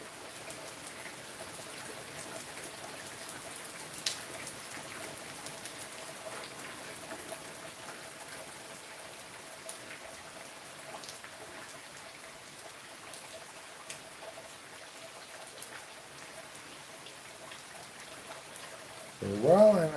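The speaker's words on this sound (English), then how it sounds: "just enjoy the sound of rain now." Rain falls on a dreary day, a steady soft patter of drops hissing evenly for a long stretch at moderate distance, with a brief louder knock right at the end.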